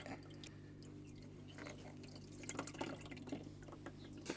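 Oil drains from the engine of a Triumph Street Triple motorcycle, a faint, steady liquid trickle broken by scattered drips over a low background hum.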